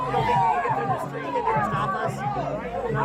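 A crowd of people gathered around trapped vehicles, a dense babble of many overlapping voices close by and steady throughout, with shouts rising out of the chatter.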